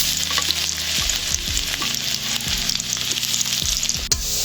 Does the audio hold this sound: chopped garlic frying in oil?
yes